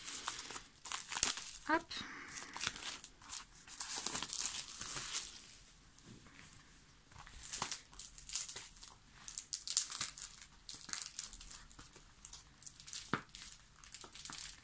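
Plastic film wrapping on a K-pop album being torn open by hand, giving repeated close crinkling and crumpling bursts with short pauses, while a person talks intermittently throughout.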